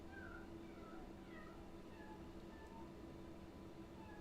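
A young girl imitating a cat, giving several soft, repeated meows over a steady low background hum, faint and somewhat distant.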